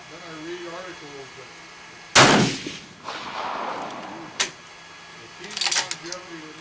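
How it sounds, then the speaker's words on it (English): A single loud, sharp rifle shot rings out outdoors, firing a reloaded 7.5x55 Swiss cartridge at a target. Its echo fades over about a second, and a few fainter clicks and knocks follow. "I'm going to shoot at the 2 red dots underneath the black shoot and see."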